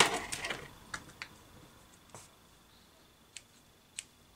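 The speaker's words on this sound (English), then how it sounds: "Now I will now cut it off" Sewing scissors snip thread off a satin hair bonnet: a dense rustle of handling at the start, then a few sharp, isolated clicks spaced apart, close and quiet, with no voices.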